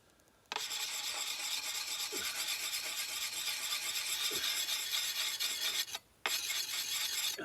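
A metal file rasps steadily along the bevel of a hoe blade to sharpen it at a camp, a loud continuous scraping that runs for about six seconds, breaks off briefly, then resumes.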